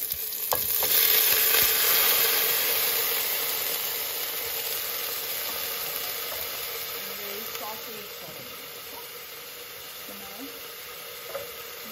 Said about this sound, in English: now can you add the moong dal into this, please?